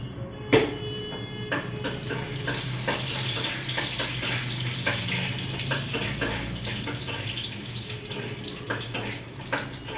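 Sliced eggplant frying in a home kitchen pan, a steady broadband hiss with scattered sharp crackles and pops over ten seconds, close and fairly loud.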